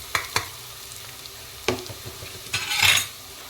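Fenugreek leaves fry in a pan for a Telangana-style keema curry, a soft sizzle broken by a few sharp stirring clacks of a utensil and a louder hissing swell near the end. No speech.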